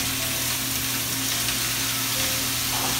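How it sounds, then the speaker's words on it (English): Room-temperature steaks searing in a very hot pan give a steady, loud, close sizzle that holds evenly from start to finish, with no talking over it. "Okay, our pan is nice and hot. Our steaks are at room temperature. And we're going to go ahead and put these right in here."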